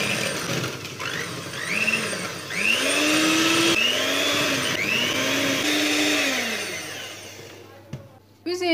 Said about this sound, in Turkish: 4 adet oda sıcaklığındaki yumurtamın üzerine 1 su bardağı toz şeker ilave edip krema haline gelene kadar yaklaşık 5 dakika karıştırıyorum